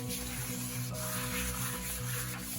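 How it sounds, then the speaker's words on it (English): A baking pan being greased by hand for jam tarts, a steady close rubbing and scraping texture that runs continuously without pauses or talk. "we need to grease our pan because we are going to put this dough on our tray"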